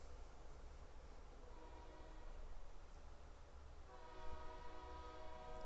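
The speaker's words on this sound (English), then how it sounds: "Hear the damn train?" A train horn sounds in a city-building mobile game, a steady blaring tone over continuous rumbling rail noise throughout, swelling louder toward the end, with no talking.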